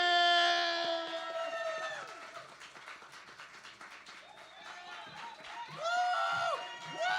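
An audience at a live stage show cheers for Theresa Nelson, a poetry performer. Loud whoops come at the start, fade into softer crowd noise, then swell into another round of whooping near the end.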